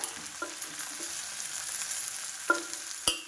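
Onion and ground spices frying in a pan for a Bengali chochchori give a soft sizzle, with a few clear utensil taps and one sharper clank near the end.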